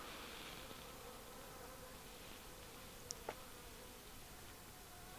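Bees buzz around a camp in the Kalahari, a faint, steady insect drone with one or two brief closer passes standing out against the background hiss.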